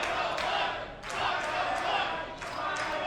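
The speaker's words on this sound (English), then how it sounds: "The crowd chanting Rhino Mike." A wrestling crowd chants Rhino's name in a rhythmic, repeated pattern at a Smash Wrestling event, loud and reverberant with regular beats, filling the arena without commentary over it.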